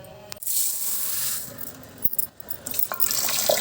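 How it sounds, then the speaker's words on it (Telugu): Close-up swishing and gritty clinking as lentils are swirled and rinsed in water, with small splashes and scattered taps against the container. "ఇలా కడిగి దానిని శుభ్రంగా 1-2 సార్లు కడుక్కొని చక్కగా దాన్ని వడబోసుకుని"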